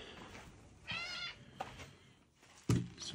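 A cat meows several times in short, separate calls, fairly close and moderately loud, with quiet gaps and a soft thump between them.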